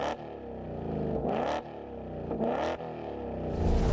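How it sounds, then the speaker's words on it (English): Ford Mustang Dark Horse with a Borla ATAK exhaust in race mode with the valves open, revving in three loud, close throttle blips that rise and fall, with a rough idle rumble between them. "press the button on the display here for race mode, which opens the valves, which sounds like this"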